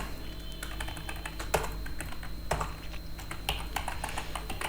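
Rapid, irregular clatter of computer keyboard keys as code is typed, steady and close, with a few sharper keystrokes standing out from the run.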